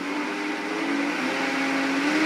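A blender whirs steadily while stirring a beet smoothie, a continuous close motor drone with a faint rising whine and no talking.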